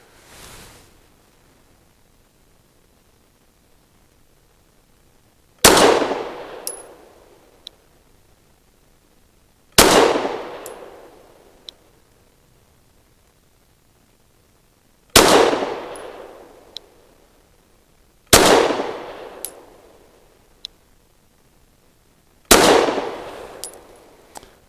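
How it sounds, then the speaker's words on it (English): Six sharp pistol shots from a Fusion Firearms XF Pro firing PMC Bronze ammunition at an outdoor range, spaced several seconds apart, each a loud crack with a ringing tail and faint clinks of steel targets. "Practical accuracy is 5 shots from 7 yards using that same basic ammo PMC bronze at a 1-inch square."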